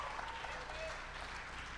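An audience at a live comedy show applauds, with steady, soft, distant clapping throughout.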